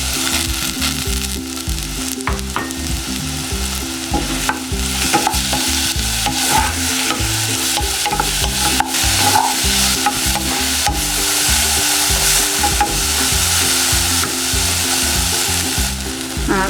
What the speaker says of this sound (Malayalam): അതിലേക്ക് നമുക്കിനി ഈ ഏത്തപ്പഴം നുറുക്കിയതൊന്ന് വഴറ്റിയെടുക്കാം.